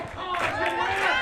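A wrestling crowd at an Elks Lodge match cheers and shouts to rally a wrestler, a steady dense roar of many voices that swells slightly and stays loud throughout the short burst.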